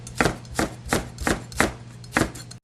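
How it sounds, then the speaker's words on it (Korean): A knife chops green and red chili peppers diagonally on a cutting board while Korean beef intestine hot pot is being prepared, giving six crisp, evenly spaced cuts at close range with no talking. "한 뿌리를 어슷어슷하게 쓸어주세요"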